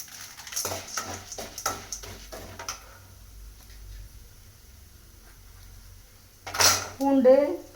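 Chana dal being stirred and sautéed in a pan brings a run of quick metallic scrapes and taps early on, then a quiet stretch with a low hum, before a louder scrape and a voice close by at the end.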